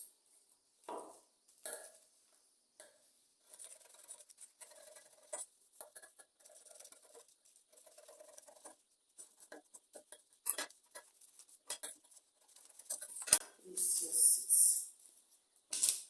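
Scissors cut through shirt fabric along a marked collar pattern, giving a series of soft, close snipping and sliding sounds in short irregular bursts with quiet pauses, ending in a louder, rougher stretch of cutting.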